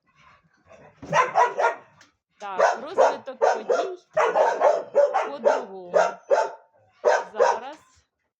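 A dog barks repeatedly in short clustered bursts, loud and close, while a person speaks briefly during the barking.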